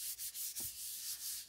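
A hand rubs over paper laid on a medallion to transfer its impression, making soft, steady scratchy strokes in a quiet room.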